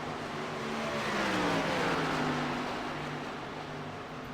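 In a racing video game, race cars roar down the front straightaway, engines swelling and sliding in pitch as they pass close by in a sustained, loud drone without talk.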